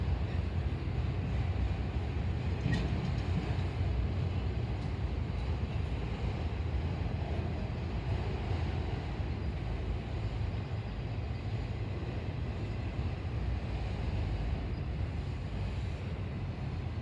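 A slow freight train of empty auto rack cars rolls steadily past, a continuous broad rumble and rattle of wheels and car bodies that holds at an even level.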